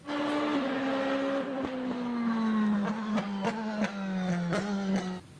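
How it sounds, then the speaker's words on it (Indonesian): A toy race car sound effect with a sustained, slowly falling engine whine, joined by repeated sharp clicks and bursts toward the end; loud and close, with no talking. "Yang ini mobil balap."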